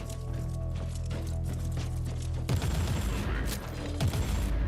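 Bolter gunfire erupts in a Warhammer 40K video game, a rapid burst of heavy shots cutting in abruptly over a droning hum, loud and close.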